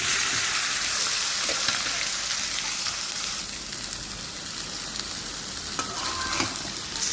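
Boiled Malabar spinach stir-fried in a pan makes a loud, continuous sizzle, with occasional scraping and stirring sounds and no talking.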